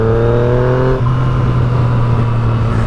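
A Yamaha FZ-09 motorcycle engine runs loud and close, one revving pitch dropping before it settles into a steady droning hum.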